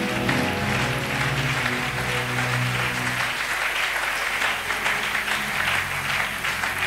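Church congregation applauding and cheering to acclaim Jesus at a Sunday service, loud sustained clapping from a large crowd that swells and continues throughout, with music audible underneath at first.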